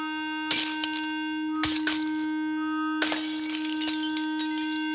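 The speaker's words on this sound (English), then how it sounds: "the glass literally shook itself to pieces" A delicate wine glass shatters from intense sound vibration, with bursts of crashing, tinkling breakage cutting through a loud steady tone that drones on throughout.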